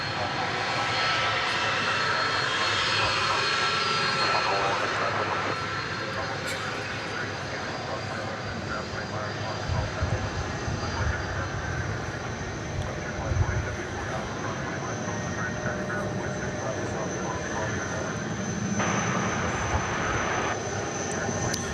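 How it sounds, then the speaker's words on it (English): A jet airplane at DFW Airport roars steadily as it takes off, a loud, sustained engine rumble and whine lasting the whole stretch, with faint talk mixed in. "So this plane going to Ontario, California is almost certain to be taking off here on the west side."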